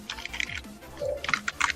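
Typing on a computer keyboard while entering Cisco router configuration commands: quick irregular clusters of keystrokes, close and clear, with short gaps and faint low background noise between.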